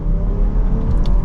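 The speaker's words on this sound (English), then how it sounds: "if we go into the sport mode, just giving it some gas, throttle response is pretty peppy" A 2023 Jeep Grand Cherokee L Overland accelerates in sport mode, its engine giving a loud, steady low rumble that swells slightly as the throttle opens, heard from inside the cabin.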